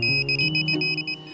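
Repeated high-pitched electronic beeps from a metal detector in a backyard, in a quick, uneven pattern, fairly close, over a low hum.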